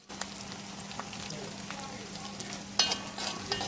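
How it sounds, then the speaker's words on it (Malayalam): Green chillies, garlic cloves, ginger and curry leaves fry in a pan with a constant close sizzle. A utensil scrapes and stirs at intervals, and a brief clatter lands near the end. "അരിഞ്ഞു വെച്ചിരിക്കുന്ന 5 പച്ചമുളക്, 3 വെളുത്തുള്ളിയുടെ അല്ലി, 2 ഇഞ്ച് നീളമുള്ള ഇഞ്ചി കഷ്ണം, കറിവേപ്പില ഇതെല്ലാം കൂടിയിട്ട് നന്നായി മൂപ്പിച്ചെടുക്കുക"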